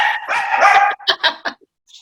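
A dog barks in a short burst of several sharp, loud barks close by, following a stretch of muffled, blended noise at the start.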